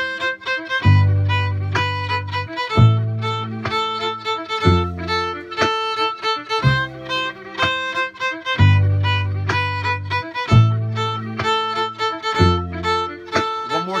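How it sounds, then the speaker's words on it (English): Violin bowing a simplified melody of a pop song, sustained notes in a steady phrase repeated over a regular low accompaniment beat, clear and close with no talking. "We're going to break it down with just the bowing first, with a simplification of the melody."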